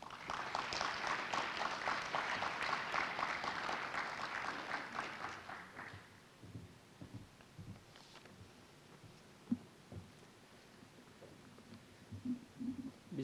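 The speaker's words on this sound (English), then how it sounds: "Please welcome Mr. Lee Jang-geun with warm round of applause." An audience at an international organizations and MICE career fair applauds warmly, a dense burst of clapping that fades out after about six seconds, leaving faint room noise and scattered shuffles.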